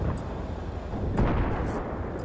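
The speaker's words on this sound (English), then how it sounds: "You get the main cannon." A tank's main cannon fires in Battlefield 3, sounding as a loud, low, rumbling boom that rolls through the whole moment, with faint sharper impacts layered above.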